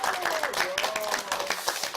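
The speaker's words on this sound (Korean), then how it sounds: "박수 한번 보내주세요." Audience applause during a Bible class session, brief scattered clapping from a group with a voice speaking over it.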